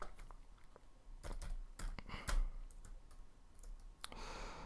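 Computer mouse clicks and light keyboard taps sound during software setup, scattered sharp clicks close to the microphone over a faint background hum.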